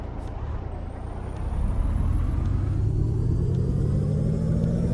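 A Peterbilt 389 truck engine in Euro Truck Simulator 2 rumbles loudly and steadily, building in power partway through as it pulls away, with a rising high whine above the low drone and no talk.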